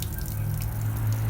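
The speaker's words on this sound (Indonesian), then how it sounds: "ada suara keran yang nyala mati" A water tap gushing steadily, a continuous low rushing flow close by with faint dripping texture, heard alone without talk.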